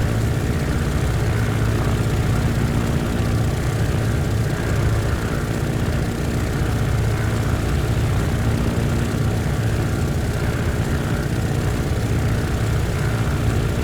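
An Antonov An-2 propeller engine in a flight simulator drones steadily and loudly, a constant low rumble with a buzzing tone that never lets up.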